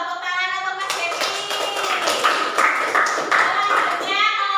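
Clapping from a classroom group of students, a ragged patter of many hands at moderate loudness, with faint children's voices mixed underneath.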